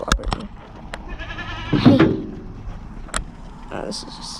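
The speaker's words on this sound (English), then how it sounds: "Oh, this is our goat." A goat bleats in brief, nasal cries near the microphone among chickens at a backyard farm, with people talking around it and a few knocks in the background.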